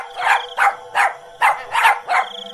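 A dog in a Hindi cartoon barks six times in quick, sharp, evenly spaced bursts, close and loud with nothing else around them.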